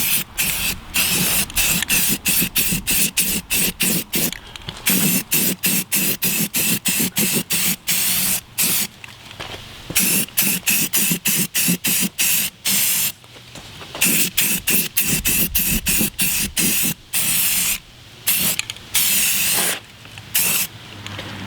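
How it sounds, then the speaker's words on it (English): Spray can of primer coating a car wheel, a steady loud hiss broken into many short rapid bursts as the nozzle is pressed and released, close up with no talking. "go ahead and start spraying down your first coat of primer"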